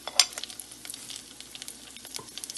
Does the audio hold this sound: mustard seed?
yes